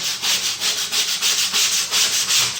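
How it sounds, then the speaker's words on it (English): Rhythmic back-and-forth rasping of 80 grit sandpaper rubbed along the square wooden edges of a cigar box guitar part, about a dozen even strokes, close and loud with no talking. "take a piece of 80 grit sandpaper right here and just lightly"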